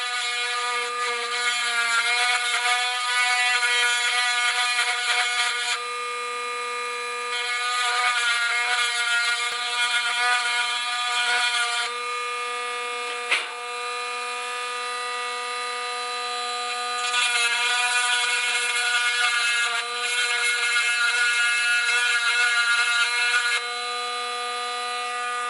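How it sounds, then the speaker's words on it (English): Dremel rotary tool grinding out the inside of a Lambretta scooter part with a tiny bit, a high, steady whine in several long runs with short pauses between, close and fairly quiet. "with a tiny little tool on the Dremel, I'm just going to Dremel the inside to give enough space for the lock wire to pass up"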